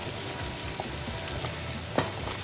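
Raspberry jam boiling hard in a pot for canning, with a steady dense bubbling hiss and a few soft pops and clicks, close and moderately quiet, no talking.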